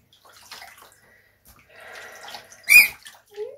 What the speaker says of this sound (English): Let's just get her bathed.